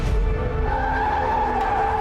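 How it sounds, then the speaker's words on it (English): A car tire screeches on a New York City street, a sustained squealing skid with a tonal whine that holds for about two seconds over traffic rumble, without speech. "That was a car tire."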